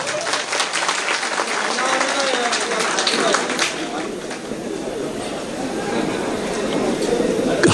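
Applause from an audience at a mushaira poetry gathering in Kamptee, Nagpur: a dense, steady wash of many hands clapping throughout, fairly loud and sustained, with a murmur of crowd voices mixed in underneath.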